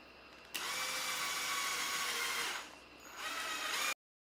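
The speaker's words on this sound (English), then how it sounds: "After drilling through the metal frame," A drill grinds steadily through a metal frame, its pitch dipping midway before rising again, then cutting off abruptly.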